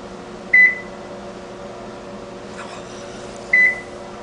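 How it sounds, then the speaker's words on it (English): Two short electronic beeps from a car's smart key ECU during key registration, about three seconds apart, over a steady low hum. "Notice two beeps. One was delayed."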